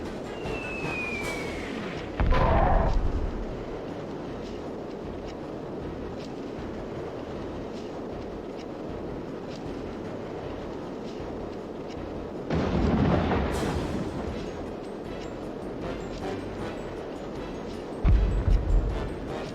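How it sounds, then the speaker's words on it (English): Cannon artillery in the Warhammer: Dark Omen battle game booms out in three heavy blasts spaced several seconds apart, each followed by a rumbling tail over a constant low battlefield drone; no speech. "this is a phase of the game that you know all too well, in which we just shoot stuff with the cannon"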